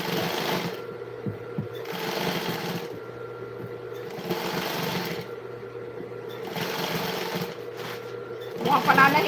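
A sewing machine stitches in repeated rhythmic bursts of rapid whirring and clatter, separated by brief pauses, with a steady hum underneath and a voice talking in the background.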